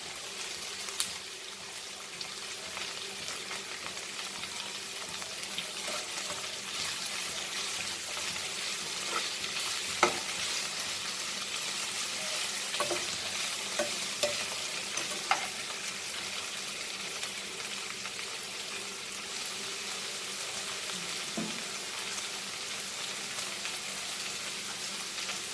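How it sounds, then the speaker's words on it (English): Okra (bhindi) frying with Goan pork sausages in a pan, a steady loud sizzle throughout with occasional light stirring scrapes and pops, no talk. "So now as our bhindi is getting fried"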